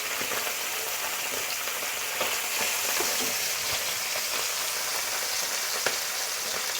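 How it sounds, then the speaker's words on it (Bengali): Soft bele fish frying in hot oil, a bright, constant, close sizzle with scattered small pops and light clicks from handling. "আমার তেলটা গরম হয়ে গেছে, আমি মাছগুলি একে একে দিয়ে দিচ্ছি"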